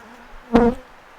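Honeybees from a feisty hive, opened for inspection in June, buzz close by in a single brief surge lasting about a quarter second, with a low faint hum before and after.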